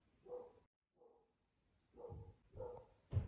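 A dog barks in short, fairly faint bursts indoors, four or five separate yips and barks spaced irregularly with brief silences between, no talk over them.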